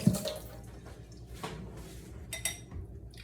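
Tap water running while hands are washed at a kitchen sink during cooking, a quiet close trickle and splashing with a few small drips and clinks, no talk.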